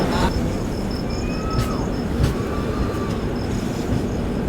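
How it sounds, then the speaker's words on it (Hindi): Sealdah SF Express train rolling out of Tundla Junction on the Ajmer–Sealdah route, with a steady loud rumble of wheels and carriages, occasional metallic squeals and clicks, heard from inside the train. "फिलहाल हमारी ट्रेन डिपार्ट करी है"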